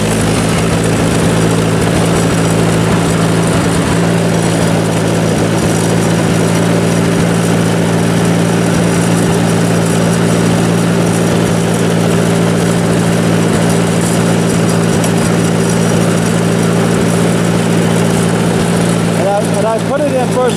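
An engine on a 1958 tractor runs steadily at idle throughout, a loud, continuous low rumble with a droning hum that holds unbroken for twenty seconds.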